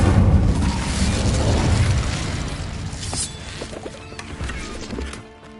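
An Incendio fire spell explodes in Hogwarts Legacy with a loud, booming blast. A crackling, rumbling tail follows and gradually fades over several seconds, broken by a few sharp debris clinks before it trails off.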